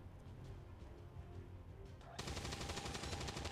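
Weapon fire in XCOM 2: War of the Chosen, quiet battle ambience that abruptly breaks into a loud, sustained burst of rapid automatic gunfire for the last second and a half.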